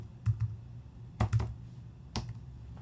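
Keystrokes on a computer keyboard as a password is typed in: a few short bursts of two or three crisp taps each, close and clear over a quiet background.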